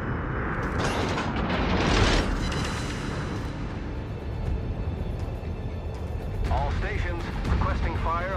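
Naval artillery from the Moskva cruiser in World of Warships booms in heavy, rumbling salvos, loud and close, with other battle effects and brief game chatter underneath.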